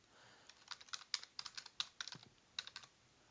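Fast, irregular clicking of keys on a computer keyboard as a password is typed, close and clear with no talking.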